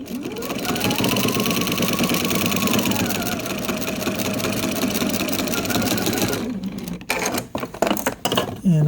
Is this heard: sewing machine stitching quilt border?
yes